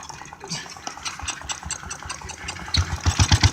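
A Whizzer motorbike engine with a loose connecting rod starts without choke and settles into a rough, pulsing idle. Its thumping beats grow louder and more regular toward the end, with some talk near the start.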